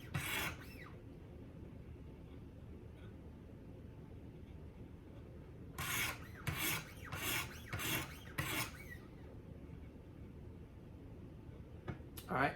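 Knife strokes on a Wicked Edge Go sharpener: an early rasp, then a quick run of five or six rhythmic abrasive scrapes, and a couple more near the end, close and crisp, with quiet talk between them.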